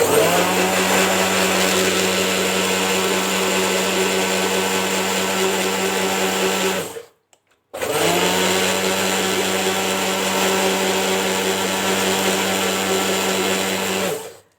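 A kitchen blender whirs steadily, mixing oil and ghee for a tea cake batter, running loud and continuous for about seven seconds, stopping briefly, then whirring again at the same level.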